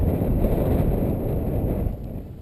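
Steady, loud wind roars and buffets across an outdoor flying field as an electric Art-Tech AT-6 Texan RC plane prepares for takeoff, a continuous low rumble with no clear breaks.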